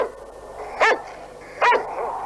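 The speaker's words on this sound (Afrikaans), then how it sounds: "Dis in verband met ons hond Artika." A dog barks twice, two sharp, loud, close barks about three quarters of a second apart, with quiet room tone between and no talk.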